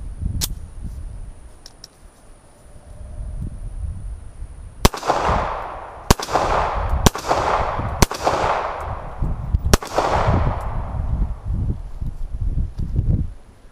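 Star BM pistol firing steel case ammunition outdoors, five sharp loud shots spaced about a second or two apart, each trailing a long echoing decay, over faint background rustle with no talking.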